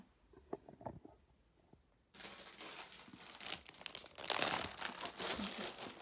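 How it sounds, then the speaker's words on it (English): A plastic bag crinkles and rustles loudly up close as a mouse or cup mat prize is unwrapped, after a couple of seconds of soft handling sounds. "Sorry for the crinkling, it's in a bag."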